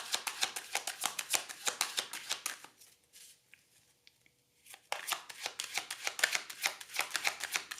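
A deck of tarot cards is shuffled up close in quick, crisp riffling bursts, breaking briefly into a quieter pause before the brisk shuffling resumes.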